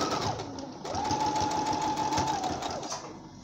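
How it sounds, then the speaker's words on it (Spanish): Domestic sewing machine double-stitching a zipper, running in steady whirring bursts with a brief pause and back-and-forth reversing to lock the seam, close and clear. "yendo un poquito para atrás y para adelante la máquina, lo remachamos y continuamos la doble costura"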